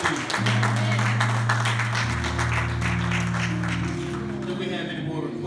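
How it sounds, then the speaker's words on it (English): Hand clapping from a Sunday church congregation spreads beneath sustained organ or keyboard chords, a soft continuous patter that thins toward the end. "Give God a hand clap for what he's about to do."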